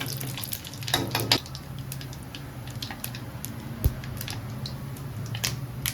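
Mustard seeds, fennel and cumin crackle in hot oil: small pops scattered over a steady low hiss, with occasional louder snaps, close by.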